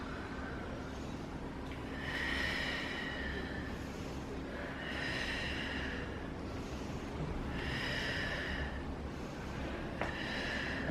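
Slow rhythmic yoga breathing, inhaling and exhaling through the nose in three or four long, evenly spaced breaths, close to the mic over a steady low background hum, with no talk.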